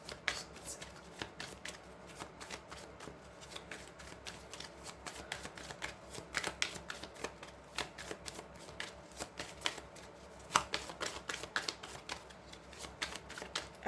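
Lenormand oracle cards are shuffled by hand, giving a steady run of crisp riffling clicks and soft slaps up close in a quiet room.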